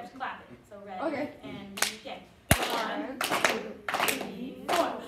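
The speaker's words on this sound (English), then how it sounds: "One, two, three, four. You have to clap it." Students in a classroom lesson clap together on the beat, sharp unison claps spaced through the stretch, with a teacher talking between and over them.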